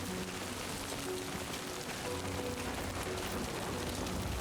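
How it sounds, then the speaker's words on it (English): Steady rain in the video game Death Stranding 2, played on a PC handheld: a dense, even hiss of falling rain that holds at a constant level throughout, with no voices. "We got the rain effects going."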